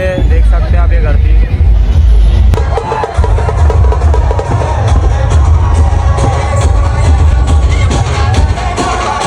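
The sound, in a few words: crowd gathered at a dhol tasha procession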